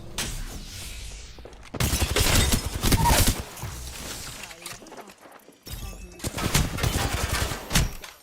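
Gunfire in the video game Apex Legends, with rapid bursts of automatic shots and impacts coming in loud clustered volleys separated by brief quieter gaps.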